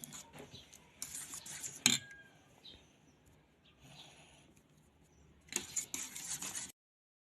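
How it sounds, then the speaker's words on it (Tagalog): A metal utensil scrapes and clinks against a bowl while fruit cocktail ingredients are stirred, soft irregular scraping broken by a few sharper knocks near the start and end. "haluin nyo lang po hanggang sa mag-mix na po yung ating mga ingredients"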